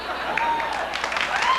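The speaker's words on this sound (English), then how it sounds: "the studio audience for applauding when the sign tells them to." Studio audience applause on a late-night talk show, a short, steady burst of clapping from a sizeable crowd with faint voices mixed in.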